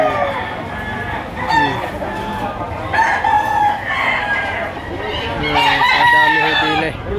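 Chickens at the Lipa City poultry auction market, several roosters crowing and hens clucking close by in overlapping calls, amid crowd chatter and someone talking.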